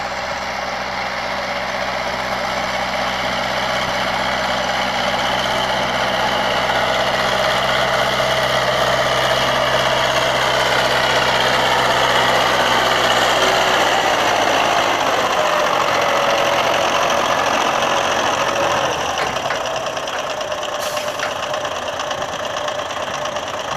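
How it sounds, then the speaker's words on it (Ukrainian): An MTZ-82 tractor engine pulling a 6-tonne trailer uphill in damp, rainy weather rumbles steadily throughout, loud and close, with a low idling throb that shifts slightly in pitch toward the end. "Так, появився трактор."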